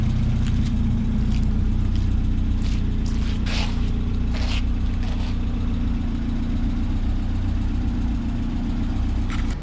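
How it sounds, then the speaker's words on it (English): A Mazda Miata engine runs steadily after a rebuild, a loud continuous low rumble throughout with a few brief higher clicks and rattles on top, no talking. "So we finally got the Miata running."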